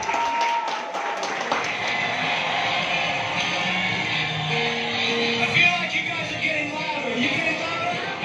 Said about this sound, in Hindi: तो जोरदार तालियां होनी चाहिए हमारे सभी विनर्स के लिए।